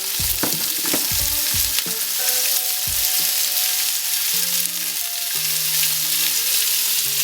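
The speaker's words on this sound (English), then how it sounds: "And we love that sizzle." Steady, dense sizzling of paneer frying in a hot pan, with a few clattering knocks of a utensil and scattered faint tonal background sounds.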